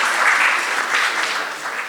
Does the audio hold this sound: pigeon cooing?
no